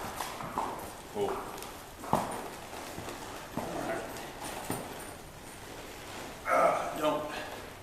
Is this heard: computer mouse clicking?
no